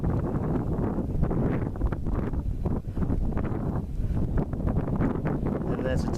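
Steady wind buffets the microphone on an exposed mountain ridge near Helvellyn, a continuous rough roar and rustle with a person talking over it.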